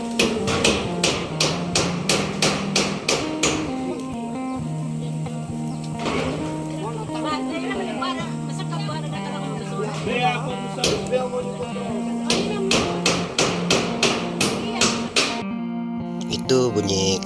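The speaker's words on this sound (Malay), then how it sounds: "itu bunyi cousin saya, dia repair zinc lah," Hammer blows ring out while someone repairs and replaces zinc roof sheets at a Penan home in Sarawak, Borneo; sharp taps come in bursts and pauses, with nearby chatter and background noise running throughout.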